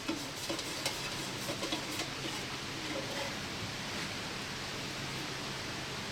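A can of Minwax Ipswich Pine wood stain being stirred, a steady soft scraping swirl close by with faint ticks, continuous for several seconds with no talking.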